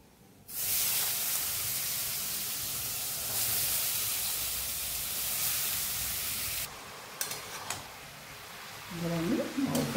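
Bottle gourd tipped into a hot pan with oil and radhuni tempering hisses into a loud, steady sizzle that spreads and softens over several seconds, with a few clatters and a voice speaking near the end.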